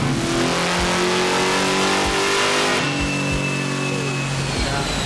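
A 1969 Camaro engine revs hard on a dyno, the tone climbing steadily through a sustained pull. It is loud and close and continuous, then drops off near the end.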